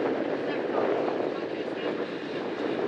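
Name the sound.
strong gusting wind on a ferry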